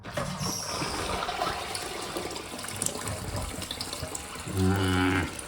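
A toilet set to maximum flush volume, tested by a plumber, releases a continuous rush of water that ends in a louder humming, whining refill tone.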